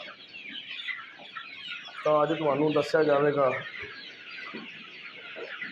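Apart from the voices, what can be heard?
desi chickens clucking on a farm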